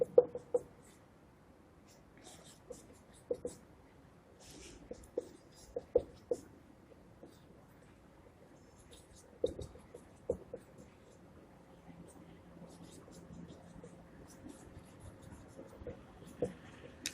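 Marker or chalk writing on a board, with scattered short taps and squeaky strokes in quick clusters separated by pauses, close and fairly quiet in a still room.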